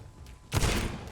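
Gunfire in the video game Vampyr, a sudden loud burst of blasts after a quiet moment, booming close and trailing off within a second, with no talk.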